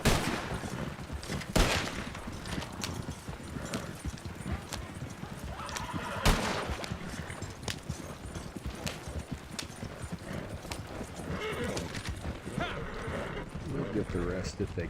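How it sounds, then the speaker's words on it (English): A few loud gunshots crack out from a moving getaway, mixed with steady galloping horse hooves and whinnies throughout, with voices in the background. "I'll do the driving, Al will do the shooting"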